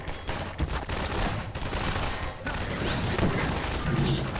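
Gunfire in the video game Half-Life 2, with rapid bursts of shots and heavy impacts crackling through the scene, punctuated by a whooshing sweep and thuds, loud and close with no voices.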